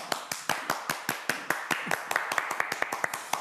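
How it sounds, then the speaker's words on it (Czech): Audience applause after a stage performance: a steady run of distinct, crisp claps at an even quick rhythm, close and fairly loud, with no talking over them. "Ovšem, my tleskáme."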